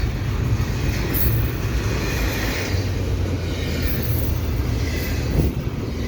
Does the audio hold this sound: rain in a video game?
no